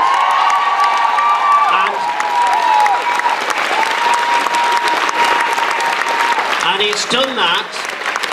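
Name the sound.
audience applause for the band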